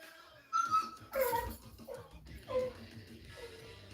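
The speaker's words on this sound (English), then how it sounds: "my dogs are going crazy" Dogs whimper and yip indoors in a few short, high-pitched bursts spaced about a second apart, fairly faint and close, with talk in the background.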